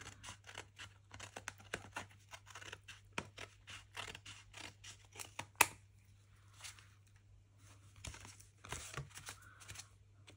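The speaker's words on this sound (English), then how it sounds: "Let's get my scissors." Repeated snipping of scissors through paper, close by, with short crisp cuts and rustling between them, pausing briefly midway before cutting resumes.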